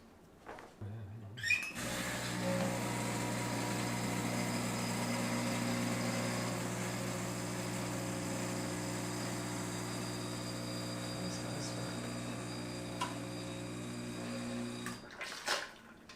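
An espresso machine pump hums steadily through a roughly 15-second shot of old coffee, a close continuous drone with faint trickling, starting and stopping with clicks.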